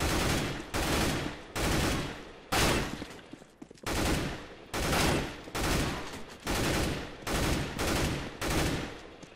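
Rapid automatic gunfire from the game CS:GO, in about nine loud bursts of a second or so each, separated by short pauses and coming steadily one after another.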